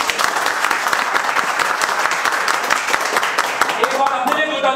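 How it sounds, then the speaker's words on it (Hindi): A class of students applauds loudly for their teachers, sustained rapid clapping from many hands that fills the room, with voices rising toward the end. "एक बार यहाँ के सारे टीचरों के लिए मैं जोरदार ताली बजा दूँ"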